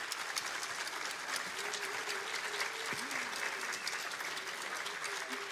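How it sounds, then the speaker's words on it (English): An audience applauds recital students at a spring performing arts recital, a dense, sustained wave of clapping at an even level throughout, with faint voices underneath. "we can give you a round of applause"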